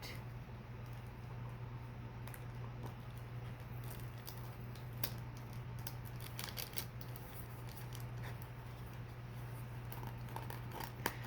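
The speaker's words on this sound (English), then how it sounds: "And now you get to unwrap it." A wrapped gift package being unwrapped, with faint scattered crinkles and soft paper rustles over a low steady background hum.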